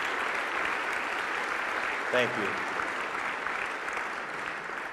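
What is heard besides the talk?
audience applause for veterans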